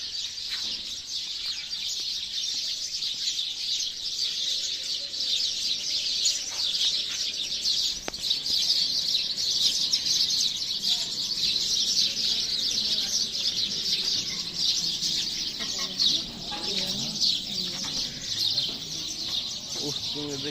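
Birds chirping near a Hanuman temple, a dense, steady chorus of high tweets and calls with some fowl-like clucks, with quiet talking in places.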